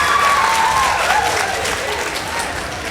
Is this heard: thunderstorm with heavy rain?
no